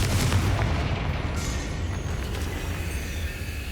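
Confringo blasting spell in the Hogwarts Legacy video game, heard as a loud, sustained booming roar of explosion and rumbling debris that fills the whole moment without a clear break.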